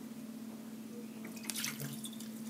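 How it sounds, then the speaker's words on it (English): Water poured out of a cup that was warmed for French press coffee, a short close trickling and dripping splash rising after a quiet start over a steady low hum. "Get rid of that water."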